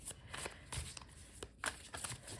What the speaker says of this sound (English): I'm shuffling, it's kind of swirling.